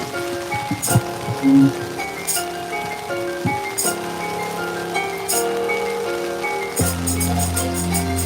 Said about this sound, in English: Starting to rain a little harder now.